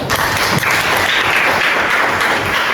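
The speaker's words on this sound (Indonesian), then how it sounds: "Tepuk tangan untuk Kak" A burst of lively clapping from a group in a classroom, steady and fairly loud for a few seconds.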